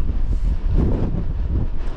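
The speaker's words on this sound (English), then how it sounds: "very windy up here, so just try and shelter" Strong gusts buffet the microphone on a windy Munro summit in the Beinn Dearg hills, a continuous low roaring rumble that swells and eases over two seconds, close and loud with no voices.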